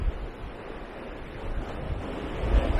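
Strong winter wind blows across a small riverbank and buffets the microphone in a dense, continuous rumble that swells slightly toward the end, with no voices.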